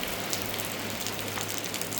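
Steady rain drums on a house roof in Ghana, a dense even hiss of drops that stays loud and unbroken throughout, with no voices.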